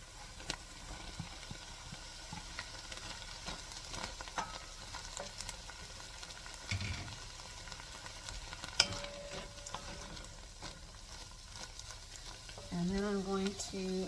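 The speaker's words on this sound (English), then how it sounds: "needed to add some more moisture back in so that the onions would cook and not burn on the bottom of the pan" Sausage and onions frying in a pan give a steady, quiet sizzle with occasional stirring scrapes, and a brief voice comes in near the end.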